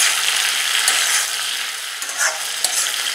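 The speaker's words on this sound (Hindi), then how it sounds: "हाई फ्लेम पे ही हमें इसे कंटिन्यू चलाते हुए सौते करना है।" Capsicum stir-fries in a little oil in a kadhai over high flame for a dhaba-style dish, giving a loud, continuous sizzle with scraping stirs throughout and no voices.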